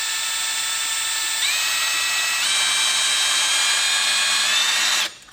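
A power drill bores steadily into a broken bolt in a deep recessed hole, a loud continuous whine whose pitch shifts upward midway, then stops abruptly at the end.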